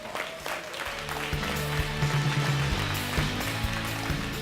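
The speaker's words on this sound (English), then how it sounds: "Give her a round of applause" Applause at an environmental awards breakfast for a city recycling volunteer, steady moderate clapping from a seated audience that continues through the whole stretch over a low room hum, with no voices on top.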